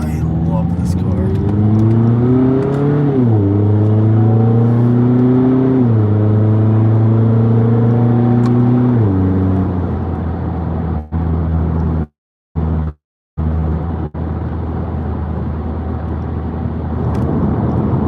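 A car engine revs and climbs through gears for about nine seconds with a strong, steady drone, then settles into a rougher rumble broken by a few brief dropouts.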